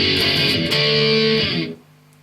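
Distorted electric guitar strums the outro chords of a song, a few sustained chord hits that ring out and then stop abruptly, leaving a faint tail.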